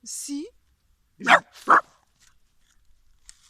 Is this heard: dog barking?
yes